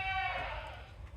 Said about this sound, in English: I know, you have to listen to the goats yell all the time too.